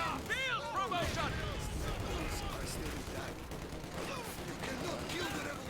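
Assault gunfire in a World War II strategy game, with sustained crackling bursts of rifle and machine-gun fire running on for several seconds beneath shouted in-game voice commands.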